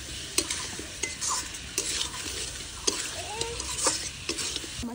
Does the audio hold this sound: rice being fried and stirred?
yes